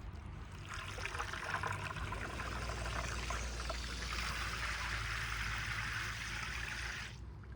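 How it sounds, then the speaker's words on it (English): A birdbath fountain pump bubbles water gently in a garden, a continuous close trickling and splashing that runs steadily with no talk. "It's bubbling, and this is how it's supposed to work."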